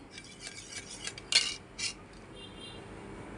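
Eggs beaten with a spoon in a bowl for egg fried rice: a few quiet clinks and taps of metal on the dish, one sharper knock in the middle, then near silence.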